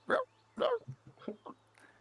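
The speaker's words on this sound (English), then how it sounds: "you hear a dog bark" A dog barks in short, sharp bursts, two strong barks followed by several softer yips, heard close over a low steady hum during a tabletop Curse of Strahd session.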